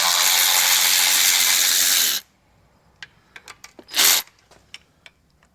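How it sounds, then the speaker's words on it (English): A ratchet with a 5/8 socket works bolts loose on a 1986 Mercury 90hp outboard, heard as a series of sharp, close clicks and short bursts after a long loud spray-like hiss at the start. "So get your 5/8 socket on it. Break them loose."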